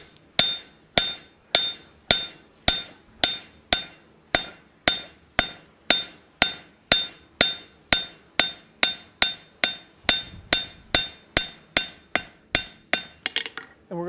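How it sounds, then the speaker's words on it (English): Steady, evenly spaced hammer blows ring out on the edge of an anvil as a cube of hot steel is forged for a simple hinge, about two dozen sharp metallic strikes with no talk. "half off blows right here at the edge of the anvil"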